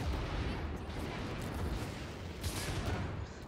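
Constant rumbling gunfire from armed NPC enemies in Garry's Mod, dense and continuous with heavy low booms, a louder burst near the end, and a voice talking faintly underneath.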